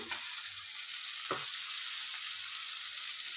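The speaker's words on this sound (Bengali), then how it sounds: "দিয়ে ভালো করে আমি মশলার সঙ্গে নেড়ে নিলাম" Situi snails stirred into a cooked-down spice paste in a pan: a soft, continuous sizzle with a couple of sharp spatula scrapes, close and fairly quiet, no one talking.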